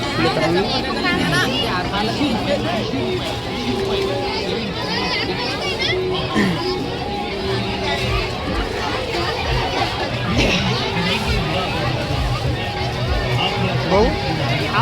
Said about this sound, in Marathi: गर्दी खूब है